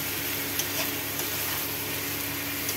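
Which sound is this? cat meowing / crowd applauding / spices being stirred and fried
spices being stirred and fried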